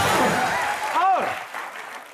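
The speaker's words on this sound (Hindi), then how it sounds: "एक बार जोरदार तालियां होनी चाहिए उदित सर के लिए और आदित्य के लिए।" Studio audience applause for guests on a Hindi TV comedy show, a fairly loud burst that fades over two seconds beneath an overlapping voice.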